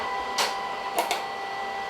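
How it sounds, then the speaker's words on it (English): A printer whirs into action with a couple of short mechanical clicks and bursts of noise over a steady hum. "My printer's gonna start up."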